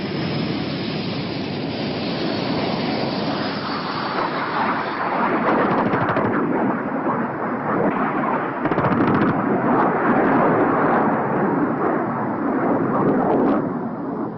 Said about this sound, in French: ces jaguars s'entraînent de façon intensive au tir au canon ou à la roquette